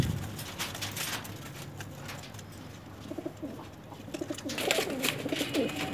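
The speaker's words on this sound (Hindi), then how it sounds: "आपको बिलाल भट्ट साहब के कबूतर दिखा रहा हूँ इस वक्त" Pigeons from a fancier's flock of high-flying breeds coo softly in short repeated phrases amid outdoor ambience, with faint bird calls nearby and no talking.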